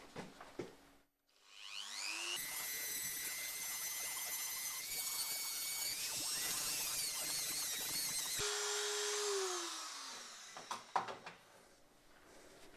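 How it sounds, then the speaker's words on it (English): Dremel grinding a Damascus steel karambit blade: a high whining motor spins up, holds a loud, steady, shifting grind for several seconds, then winds down with scraping touches at the end. "now we take the Dremel"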